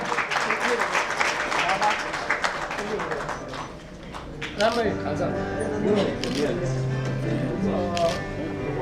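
At a launch event for a Gangotri Group business, a crowd claps in welcome, a busy patter of applause with a few camera clicks, fading as someone talks over it.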